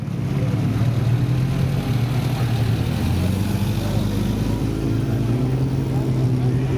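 Classic cars idle and rev in an assembly area at the start of the 2011 Bay to Birdwood rally, a steady low engine rumble filling the scene with voices mixed in.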